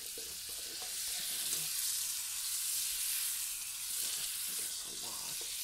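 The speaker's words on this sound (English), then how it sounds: "Adding a little bit of butter to the pan." Butter sizzles steadily in a hot pan, a bright continuous crackling hiss with a few faint scrapes, close and fairly loud, no talking.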